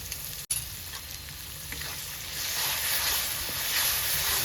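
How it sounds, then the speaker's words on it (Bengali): Onion and garlic fry in hot oil with a steady, close sizzle that grows louder and brighter partway through, broken early by a single brief dropout, with no voices heard. "পেঁয়াজটা আমার একটু হালকা কালার হয়ে এসছে আমি দিয়ে দেবো রসুন"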